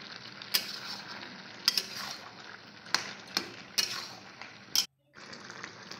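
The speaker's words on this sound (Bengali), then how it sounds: "মশলার সঙ্গে লাউটাকে খুব সুন্দর করে নাড়িয়ে করে মাখিয়ে নেব।" A spoon stirs bottle gourd with spices in a pan, sizzling softly while giving repeated sharp scraping clicks against the metal, then stopping briefly before the frying hiss returns.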